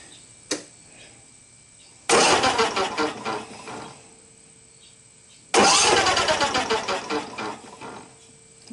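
A Briggs and Stratton 27HP engine that has lost compression is cranked with the key in two long bursts, each a loud, rapid, even churning of the starter that fails to catch, with quiet pauses around them.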